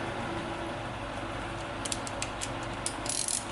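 A ratchet wrench backs a grimy bolt out of a 1998 Honda Valkyrie motorcycle, giving soft, quick clicking bursts in the second half over a steady low background hum.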